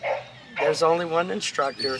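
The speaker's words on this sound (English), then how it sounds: "Now, barking. That's our dog." A dog barks and yips indoors, mixed under a man's conversation and fairly close.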